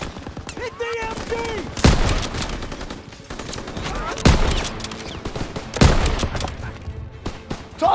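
Bursts of machine gun fire rattle across a World War II D-Day battle on Omaha Beach in Call of Duty, with several sharp, loud volleys standing out over a dense bed of distant gunfire and battlefield noise.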